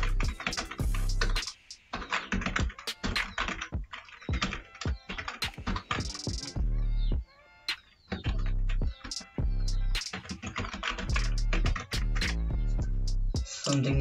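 Rapid clattering keystrokes on a computer keyboard come in dense bursts with short pauses, close and clear, as text is typed into a Microsoft Word document.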